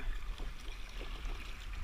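Colorado River water rushes and sloshes around a small boat in a rapid near Moab, a faint, steady gurgling wash with light splashes and no voices.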